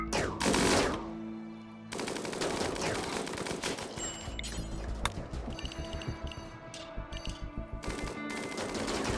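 Rapid automatic gunfire from a RimWorld Odyssey battle against bugs, a dense fusillade of bursts that tapers into a rhythmic string of repeated shots, loud and with no talking.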